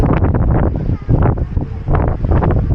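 Strong wind buffets the microphone in steady, loud gusts near Motohakone in Hakone, Japan, a roaring rumble that swells and dips for a few seconds.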